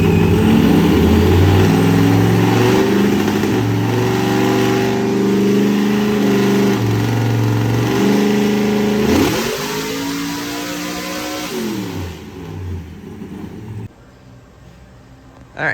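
A 1400+ hp carbureted big block engine on a dyno revs hard through the gears, a loud sustained roar with rising pitch sweeps, then drops and winds down toward the end.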